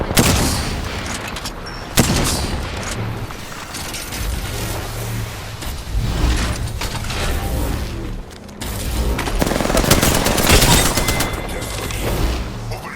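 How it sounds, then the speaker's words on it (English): Rapid bursts of gunfire and booming shots fill a firefight in the video game Apex Legends, loud and dense with repeated volleys and brief pauses throughout. "Opening fire."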